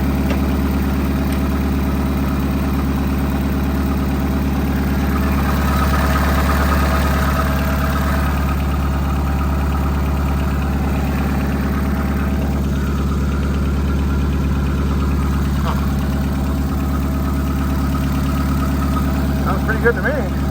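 A Rambler American car engine idles steadily with a low, continuous rumble that runs without a break throughout, close and fairly loud, with a few faint clicks and light handling sounds over it.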